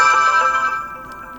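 The pre-installed ringtone on an OPPO Reno15 FS phone plays a bright, chiming melody, loud and clear from the speaker and fading slightly over a second and a half, with no talking.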